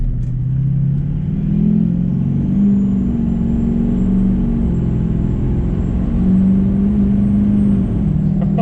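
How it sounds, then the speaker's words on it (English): An LML Duramax diesel pickup with compound turbos revs up close by, its deep engine drone rising and falling in steady swells with a faint high turbo whine above it. "Let's give it a little bit of gas here."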